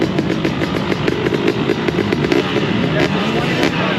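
A two-stroke motocross bike with a 2021 KTM 250 SX engine in a 450 chassis runs at Daytona press day, its engine loud, close and continuous with a raspy, crackling edge throughout.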